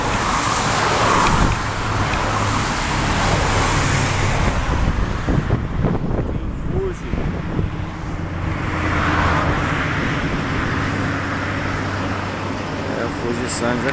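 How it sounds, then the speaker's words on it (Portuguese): A truck passes on a roadside by Route 1 in Fuji, Japan, its roadway rumble rising and fading amid gusty wind buffeting the microphone, with someone talking throughout. "Esse caminhão passa aqui com um vento tão molado."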